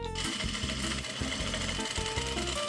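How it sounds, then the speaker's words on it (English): Sewing machine stitching internal bone channels into a corset made from a soccer ball, a loud, steady close-up mechanical whir and rapid needle thumping that runs continuously, with brief pauses in the rhythm. "So we sew down 1/2 inch here."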